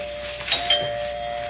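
A doorbell rings once in an audio drama, a clear two-tone chime close by with a short sustained ring over a quiet background.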